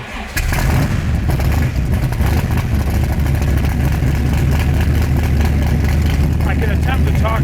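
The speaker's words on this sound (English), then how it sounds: "That is how a comp Cobra sounds." A Shelby Cobra 427 competition car, a CSX4000 continuation, fires up and settles into a loud, steady, rumbling idle close by, with a voice talking over the engine.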